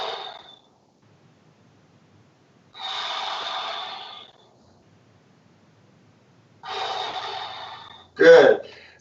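Big exhales during a breathing exercise, three long breathy blows separated by pauses, ending with a sharper, louder snort-like burst.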